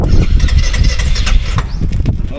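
A Royal Enfield Hunter 350 motorcycle starts up on a slope, its engine catching and settling into a loud, close, rumbling idle with no talking.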